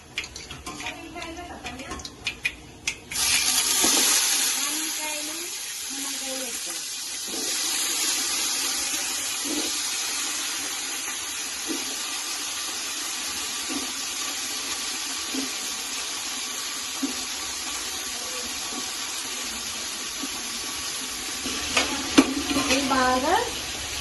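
Dried chillies, cumin and mustard seeds frying in hot oil in a kadai on a stove, a steady sizzle with occasional stirring scrapes after a brief louder start, voices faint or absent.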